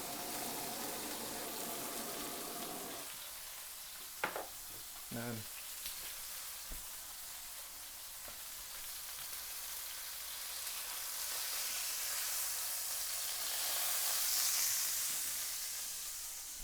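Meat browning in a hot pan gives a steady, close sizzle that carries on throughout, broken by a few sharp clatters early on, with the frying hiss swelling slightly toward the end.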